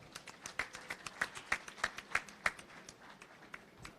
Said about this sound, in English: He certainly deserves a bigger round of applause.